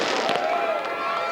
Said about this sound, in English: Well, we got some fireworks going on.